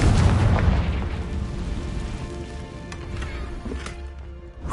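Confringo fire spell from a Harry Potter video game going off in a loud booming blast, then continuing as rumbling crackle with a few sharp pops over about five seconds.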